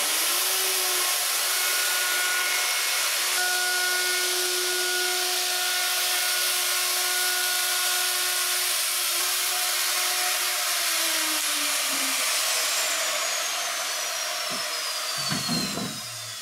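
A power tool steadily chamfers the edges of wooden boards for a garden bench, its loud continuous whine running unbroken for about twelve seconds before winding down, followed by a few scraping knocks of the wood being handled.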